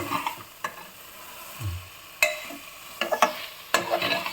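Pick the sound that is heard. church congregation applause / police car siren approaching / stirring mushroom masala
stirring mushroom masala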